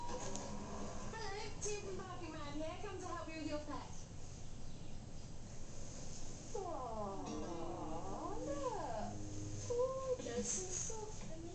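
A cat attacking a Lego Star Wars AT-AT walker, giving repeated wavering meows and yowls in two bursts over a steady noisy background.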